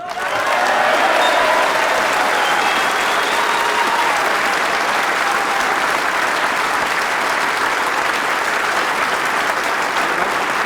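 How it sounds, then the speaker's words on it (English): Snooker crowd at the World Championship giving Ali Carter a loud, sustained ovation, dense clapping filling the hall evenly from start to finish with a murmur of crowd beneath and no talk. "But Ali, our applause goes to you, ladies and gentlemen."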